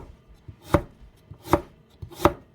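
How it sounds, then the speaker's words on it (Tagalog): A knife slices sweet potato into thin strips on a cutting board, giving three firm, evenly spaced chops with lighter taps between them, close and clear without any talk. "So, ganun din ang hiwa natin sa ating kamote."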